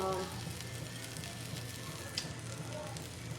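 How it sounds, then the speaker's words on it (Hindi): Basic Indian spices and vegetables fry in a home kitchen pan, a steady close sizzle that carries on throughout with a few small crackles, while someone talks over it. "सो ये मैंने बेसिक इंडियन स्पाइसेस को इसमें डाल दिया है, ये कुक हो रहा है।"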